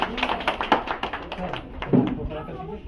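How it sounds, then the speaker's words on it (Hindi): A room of teachers at a cluster meeting claps for a teacher, a patter of hand claps mixed with people talking over it. "मैम के लिए बात ताली बजा दीजिए मैम के लिए"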